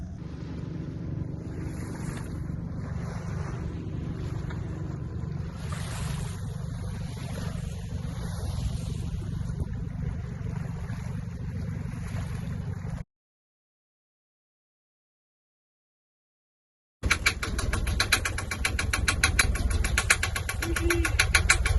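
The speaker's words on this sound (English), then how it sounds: "we're out here in this boat" A boat's engine drones loud and steady as it runs fast on open water, with wind buffeting the microphone; the sound cuts to silence for a few seconds, then returns just as strong.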